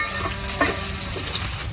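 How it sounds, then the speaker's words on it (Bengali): Chopped onions frying in hot oil in a pan, a dense close sizzle that holds steady over the short span, with a few faint stirring scrapes. "পেঁয়াজ গুলা তো ভাজা হয়ে গেছে"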